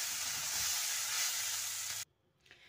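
Pasta ingredients frying briefly in a pan, with a loud, steady broadband sizzle for about two seconds that cuts off abruptly, followed by quiet and a faint scrape.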